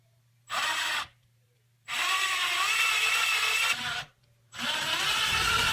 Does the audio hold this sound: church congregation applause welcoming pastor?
no